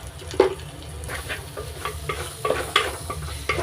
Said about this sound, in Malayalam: ഇതിനെ നമുക്ക് നല്ലതുപോലെ ഒന്ന് വഴറ്റി കൊടുക്കാം